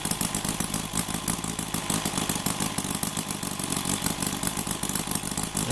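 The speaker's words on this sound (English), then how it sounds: "the engine's running very sweetly" An OS IL300 model engine runs after a conversion, idling smoothly with a quick, even mechanical tapping and clatter over a steady mid-pitched drone, close and continuous.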